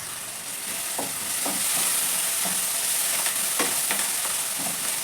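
Poha seasoning sizzles steadily in a hot pan at home on a gas stove, with several soft scraping stirs of a spatula spread across the steady frying hiss.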